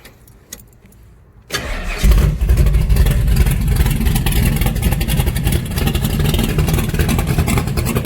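A Chevy Nova's engine cranks and catches after a quiet moment of faint clicks, then settles into a loud, rough, steady rumble with slight revving that runs on close and unbroken.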